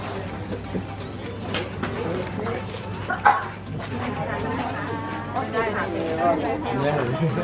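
A dog barks amid the crowd at Chiang Khan night market in Loei Province, Thailand, its short bow-wow barks and a yip rising over steady babble and nearby conversation.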